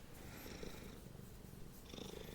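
Cat purring close by, a soft continuous rumble throughout with faint rustling and no talk.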